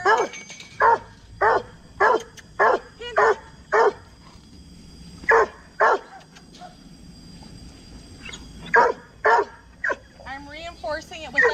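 A dog on a leash barks in short, loud, evenly spaced bursts, several in a row with brief pauses, then a few more barks and a whiny yip near the end.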